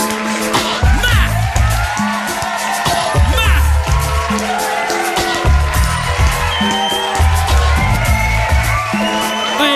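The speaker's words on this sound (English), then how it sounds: "I think we're gonna get a big round of applause for that right there, man." A loud, lively studio crowd cheers, whoops and shouts throughout, with heavy bass music pulsing underneath and a man calling out briefly over the noise.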